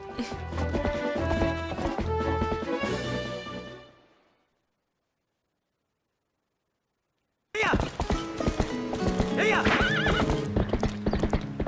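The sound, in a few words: horse galloping and neighing in video game Twilight Princess HD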